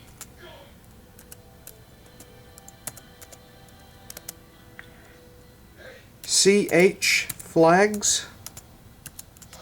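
Keystrokes on a 2008 MacBook keyboard typing a terminal command: faint, scattered clicks through the first half, then someone speaks over them.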